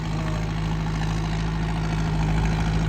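A new 6055 tractor idles alone in a steady, unbroken low-frequency rumble with an even hum throughout, close and moderately loud.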